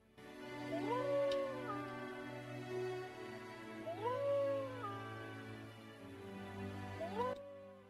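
A dog in The Witcher video game whimpers and howls in long, wavering rising cries, three drawn-out calls repeating at a steady pace over a low background drone.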